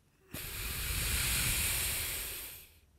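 A single long, steady exhale through one nostril of a person with a cold, heard up close as a soft breathy hiss lasting about two and a half seconds, swelling and fading, with nothing else around it.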